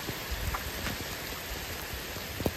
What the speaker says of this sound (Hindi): हमारी साइड इतनी बारिश हो रही है।